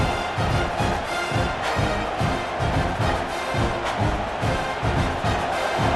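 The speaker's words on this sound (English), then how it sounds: "It's early, but this crowd is fired up. Listen to this noise here." A dense stadium crowd in the video game EA Sports College Football 26 roars continuously, loud and unbroken, with a faint rhythmic pulsing running through the noise.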